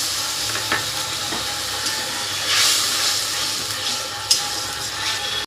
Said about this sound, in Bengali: এবার মশলাটাকে ভালো করে কষিয়ে নিতে হবে, তার জন্য একটু জল দিয়ে দেবো